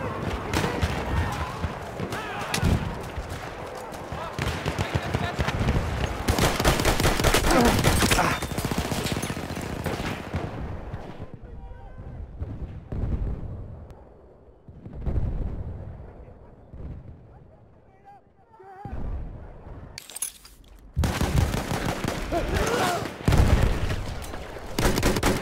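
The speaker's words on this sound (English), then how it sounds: "machine gun!" Machine gun fire and explosions in the Battlefield 1 video game, dense loud bursts for about ten seconds, then sparser shots and blasts, with voices shouting over the combat.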